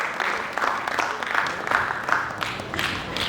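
Audience at a social-issues theatre festival applauding an announcer called to the stage, a steady dense clapping that stays loud and sustained throughout with no pause.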